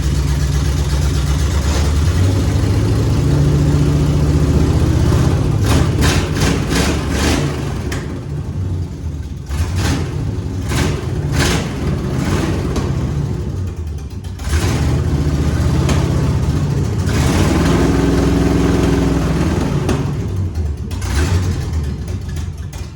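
A 1950 GMC truck mounted on an S10 frame runs steadily, its engine rumbling low and loud with a few revs rising and falling over a rough idle, close up and with no talking.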